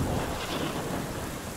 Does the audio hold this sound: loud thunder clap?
yes